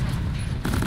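Exploder enemies blow up in a dwarf mining video game, making a rapid burst of loud, booming blasts packed into under a second.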